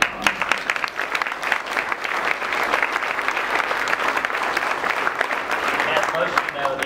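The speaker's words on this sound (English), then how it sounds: "So I'd like to give them a round of applause." An audience at a groundbreaking ceremony gives a sustained round of applause, loud and steady with many hands clapping together throughout and occasional voices mixed in.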